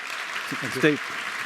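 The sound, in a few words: audience applause for the award winner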